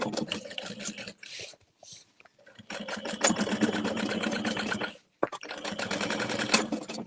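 A sewing machine top stitching a tote bag seam, running in steady close whirring bursts with a short pause near the start and another brief stop before resuming.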